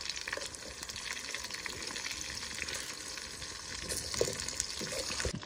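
Masala-coated fish frying in a pan, giving a dense, steady sizzle and crackle with a few louder pops and spatters, close and constant throughout.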